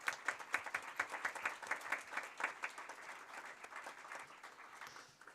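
A room applauds school nurses at a board of education meeting, a dense patter of many clapping hands that holds steady and then thins toward the end, heard from a distance at modest volume.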